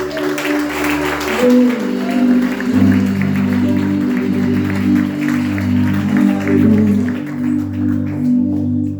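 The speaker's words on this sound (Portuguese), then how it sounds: "Aplauda Ele nessa hora." Congregation applauding God during a church service, crowd clapping spread across the clip beneath sustained organ or keyboard chords and a voice speaking or singing.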